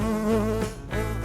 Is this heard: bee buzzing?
yes